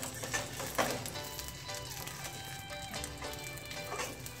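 An omelette frying gently over a low flame in a pan, a faint crackling sizzle with light patter and occasional spatula scrapes, quiet and close.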